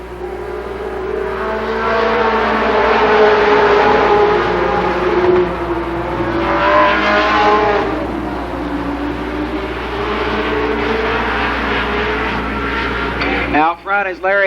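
Late model race cars at Columbus Motor Speedway roar around the oval in a heat race, a loud continuous engine drone that rises and falls as the pack passes, with a public-address announcer talking over it.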